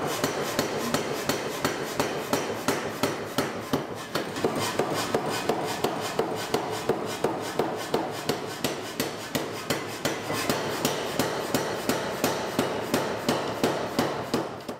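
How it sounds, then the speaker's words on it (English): A power hammer forges a Damascus steel billet in a rapid, steady stream of loud, close metallic blows that keep an even rhythm throughout. "now Logan's gonna take a heat or two on it and play it with the new hammer"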